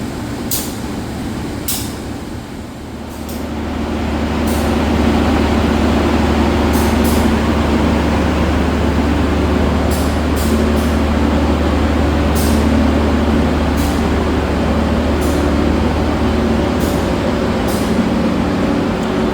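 Passenger train at an Indonesian station on a Jakarta route, with a steady, loud low diesel rumble that builds after a few seconds and holds, sharp metallic clanks and hisses breaking through at intervals.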